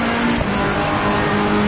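A Ferrari GT3 race car in the racing game Assetto Corsa Competizione pulls away out of the last corner, its engine droning steadily and loudly at high revs for a short stretch with no talk over it.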